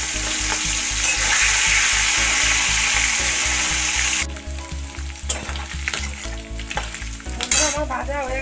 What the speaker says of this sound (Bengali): এবার আমি এর মধ্যে চিংড়ি মাছগুলোকে ভেজে নেব।